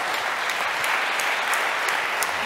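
An audience applauds at a French media awards ceremony, the Grand Prix des Médias 2023, a thick steady wash of many hands clapping that fills the room, with no voice heard over it.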